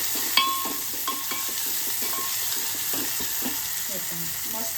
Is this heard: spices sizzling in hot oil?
yes